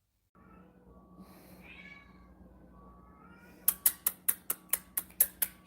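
A female cat in heat meows and calls for a mate in soft, drawn-out cries over a quiet background. A fast run of sharp, evenly spaced clicks follows at the end.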